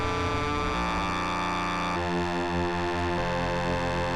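A harsh, metallic ring-modulation tone from a Vongon Paragraphs 2 synthesizer, with clangy, inharmonic overtones, drones continuously, its pitch jumping to new settings every second or so.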